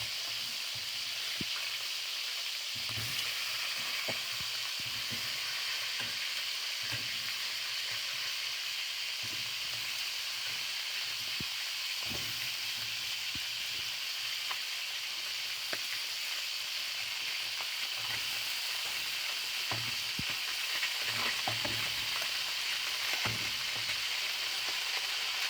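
Chicken pieces frying in a pan: a continuous bright sizzle, close and steady, broken by scattered clicks and scrapes as the pieces are turned, with no talking.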